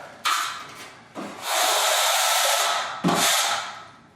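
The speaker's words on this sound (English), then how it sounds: "I'm just scraping away any little bit of mud." A drywall knife scrapes dried joint compound off a basement wall, three close, rasping strokes, the middle one long and sustained, with no talking.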